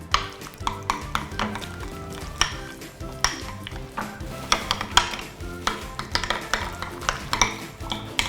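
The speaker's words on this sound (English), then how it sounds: "Make sure it's nicely and evenly mixed up." Roasted garlic being worked into soft butter in a bowl for garlic bread, with a quick, steady run of small scraping clicks and taps from the utensil close by, and no talking.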